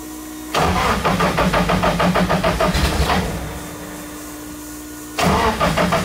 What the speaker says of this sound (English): So I've already turned on the fuel pump, and we're ready to start it.